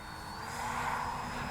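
A Durafly Brewster F2A Buffalo RC warbird model plane flies overhead at sunset, its electric motor giving a steady high whine that swells slightly louder as it passes.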